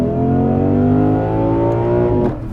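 Lexus IS 500 V8 heard from the cabin, revving hard through second gear with a rising, loud, smooth engine note that climbs steadily before easing off at the end.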